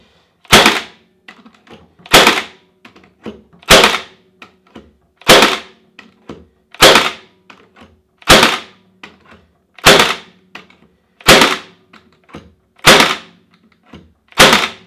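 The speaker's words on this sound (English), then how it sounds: "We're going to shoot several nails into this." A Milwaukee M18 cordless brad nailer fires nails into oak, ten sharp loud cracks spaced about every one and a half seconds, each followed by faint handling clicks, close and dry with no talking.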